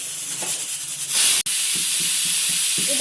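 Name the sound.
pressure cooker whistle while cooking dal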